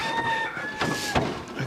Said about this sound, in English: A cockerel's given it what for this morning.